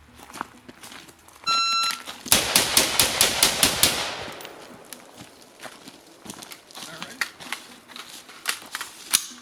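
A PSA 16-inch M4 upper with iron sights fires a rapid string of about eight sharp rifle gunshots in close succession, loud and close, followed by quieter scattered clicks and handling sounds.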